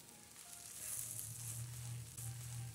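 Bacon and panko farofa sizzles and fries in a pan while being stirred, a steady close crackling hiss with no voices.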